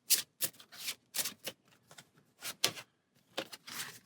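A deck of cards being shuffled for the Dice Throne Adventures board game: a series of quick, close, soft riffling bursts with short pauses between them.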